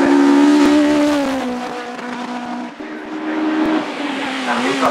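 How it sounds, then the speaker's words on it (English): A K-Series powered Caterham SLR race car charges through a hillclimb bend at Shelsley Walsh, its engine note loud and near at first, then falling slightly and fading as it pulls away, with rising revs toward the end. "Ken's really charging through the top S in the SLR"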